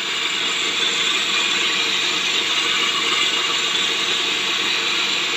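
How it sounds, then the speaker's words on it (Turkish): Kadmec DM1509 stone flour mill grinding wheat, a loud, constant mechanical rattle and whirr with fine ratcheting texture, steady and unbroken from start to finish. "Değirmenimiz çalışıyor Allah'ın izniyle."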